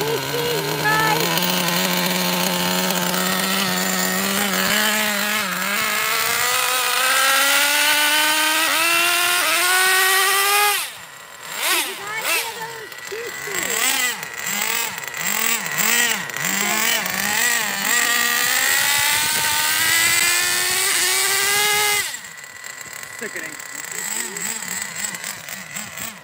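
Nitro-powered Traxxas Jato RC car engine buzzing at a high pitch with rising and falling revs at an RC track, loud and near, then dropping to an uneven low idle with sputtering bursts before revving again.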